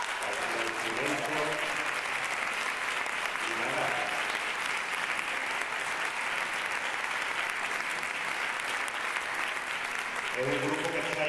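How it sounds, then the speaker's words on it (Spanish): Audience applause fills a municipal band concert in Coria, a dense, steady clapping throughout at fairly close range, with someone speaking over it at the start, middle and end. "un fuerte aplauso para vosotros"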